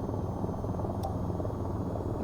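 AH-94 attack helicopter in the VTOL VR flight game, a continuous close rotor and engine drone, steady and loud from start to finish with no talking.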